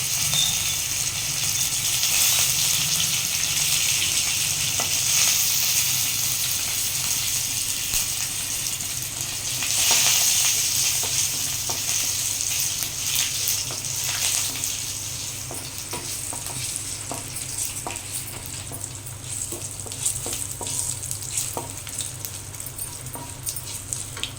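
Curry leaves fry in hot oil with a continuous crackling sizzle, with occasional stirring scrapes and rattles in the pan throughout.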